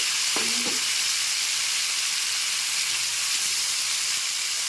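Cauliflower pieces dropped into hot oil, a steady loud bright frying hiss that fills the whole stretch, with a couple of faint clinks near the start and no talking.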